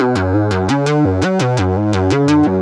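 Medic Modules Voice Box eurorack loudspeaker module at full volume, driving and distorting a harmonically rich synth line: a steady run of rapid, stepping notes, loud and gritty, with no talking.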